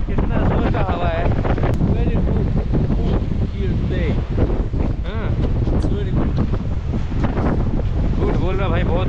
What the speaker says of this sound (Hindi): कितना जोर का हवा है।